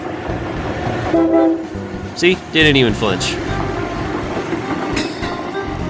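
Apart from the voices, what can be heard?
Acela high-speed train passing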